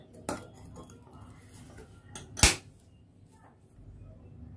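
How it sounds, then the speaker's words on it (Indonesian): A spoon stirs a cornstarch sauce of water, sesame oil and seasoning in a bowl for mapo tofu, giving two distinct metallic clinks against the dish amid quiet scraping. "Lalu kita aduk rata dan sisihkan."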